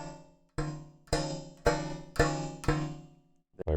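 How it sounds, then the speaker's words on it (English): Stratocaster tremolo springs plucked one at a time, six separate metallic twangs that each ring out and decay, with a brief scrape at the end. "You want these springs to ring out a little bit instead of be like a sort of a plunky sound."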